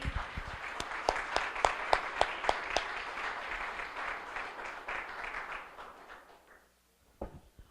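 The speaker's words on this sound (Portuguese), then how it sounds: "Sua melhor salva de palmas ao Senhor" A church congregation applauds for the Lord in a worship service. The applause is steady and full, with some sharper individual claps standing out early, then it thins and fades toward the end before a brief final burst.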